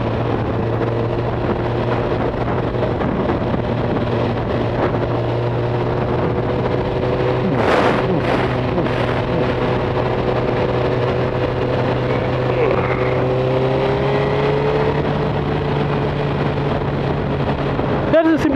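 Suzuki GSX-R 1000 ABS motorcycle engine while riding, a steady droning hum that holds a roughly constant pitch and rises slightly near the end, with wind noise and a few brief clicks mixed in.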